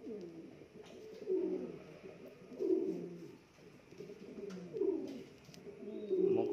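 A pigeon coos softly in a repeating rhythm of four low, throaty phrases, close by but faint, with no one speaking.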